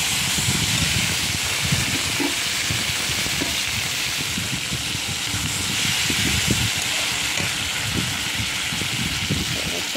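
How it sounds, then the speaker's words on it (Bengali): Prawns fry in hot oil with mustard seeds, giving a steady close sizzle and hiss for the whole stretch, with small crackles and stirring knocks. "চিংড়িগুলো একটু ভেজে নেব"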